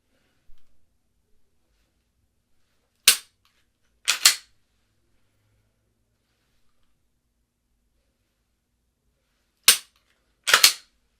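Pistol shots fired quickly at several targets during a drill: a pair of sharp, loud cracks around three to four seconds, then quiet, then a second close pair near the end, with no talking.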